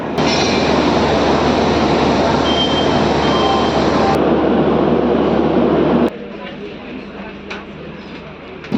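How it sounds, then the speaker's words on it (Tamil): Chennai–Coimbatore Shatabdi train pulling out of platform 2A at MGR Chennai Central, a dense, steady rumble of carriages starting to roll that drops abruptly quieter partway through, with a faint voice in the background. "ட்ரெயின் மூவ் ஆயிடுச்சு"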